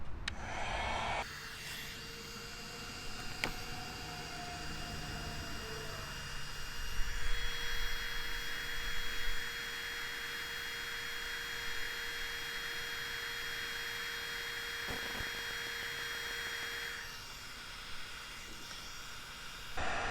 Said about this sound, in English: If I had a diverter on my heat gun, I think it would have worked better. But it is working.